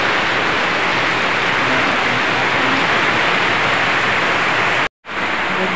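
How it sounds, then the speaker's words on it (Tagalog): Heavy rain pours in a steady, dense roar that fills the whole scene without letup, loud and close with no voices, cutting out for a brief moment near the end before resuming. "Nagsimula na yung malakas na ulan."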